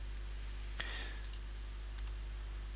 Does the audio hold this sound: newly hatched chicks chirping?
no